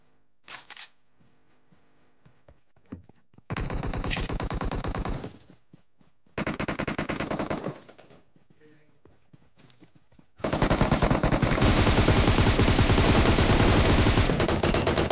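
Gunfire in the PUBG Mobile video game: loud, sustained automatic bursts of rapid shots, several seconds each, separated by quieter gaps with faint clicks, the last burst longest and densest.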